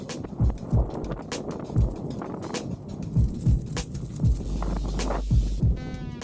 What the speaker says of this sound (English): Hope you can hear me, it's so windy.